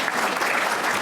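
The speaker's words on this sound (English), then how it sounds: "All right, round of applause." Brief, dense burst of audience applause at a public forum on Chicago Public Schools finances, many hands clapping together at close range, loud and continuous.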